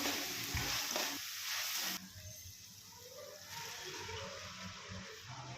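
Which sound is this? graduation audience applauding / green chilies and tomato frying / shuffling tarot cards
green chilies and tomato frying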